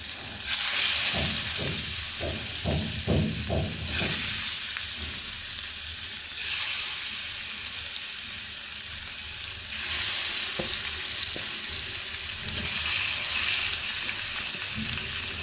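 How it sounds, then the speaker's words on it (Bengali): Rohu fish pieces fry in hot oil at home, loud hissing sizzle swelling in repeated bursts, with clattering stirs and scrapes of a utensil in the pan near the start. "মাছ ভাজা শেষ"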